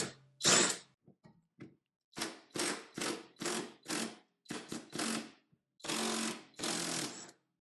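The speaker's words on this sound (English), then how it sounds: "I'm just going to be using an impact wrench." Impact wrench breaking loose a corroded 14mm bolt on the rear shock of a 2006 Honda Odyssey, heard as a series of loud, close, short rattling bursts separated by brief pauses, with no talking.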